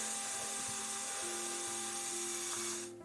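Small LEGO electric motors driving a candy machine whir steadily with a thin high whine and faint mechanical ticking, fairly quiet, then wind down at the end.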